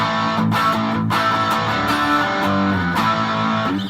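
An electric guitar through a Boss SD-1 overdrive pedal plays loud, sustained chords and notes with a gritty, crunchy tone, ringing on continuously with no voices.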